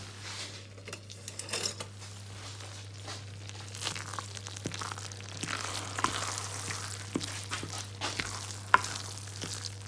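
Brandy being stirred into a pan of hot vegan mincemeat for mince pies, with soft wet sticky stirring and faint sizzling, occasional scrapes and knocks of the spoon, close and fairly quiet.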